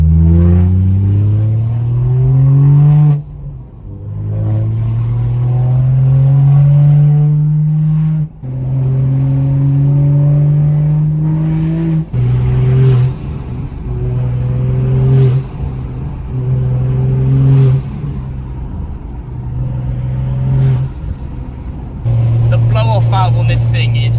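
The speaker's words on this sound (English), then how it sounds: "when you build enough boost, it actually does the turbo flutter, which just sounds unreal" BMW with an MHD Stage 2 tune pulling hard through the gears, engine note climbing in repeated loud rising sweeps with brief lifts between, a turbo flutter on boost release, and people talking over it.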